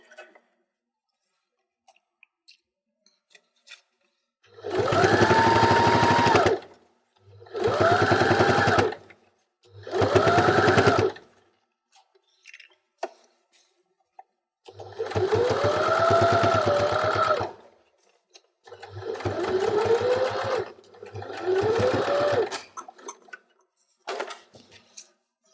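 A domestic sewing machine stitches fabric while finishing the top edge of a cuff on a homemade Christmas stocking, running in six short whirring bursts of one to two seconds with quiet gaps between them, heard up close.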